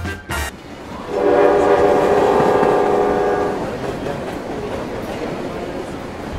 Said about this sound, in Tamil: இங்கே ஒரு ட்ரெயின் போயிட்டுருக்கு.